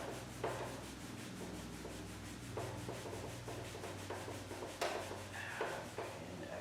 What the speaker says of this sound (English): We're going to rub inside that gap.